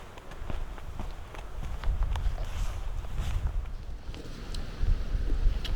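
Wind gusts buffet the microphone on an open hillside trail in Dolly Sods, West Virginia, with low rumbling bursts throughout and faint crunching footsteps, no talk.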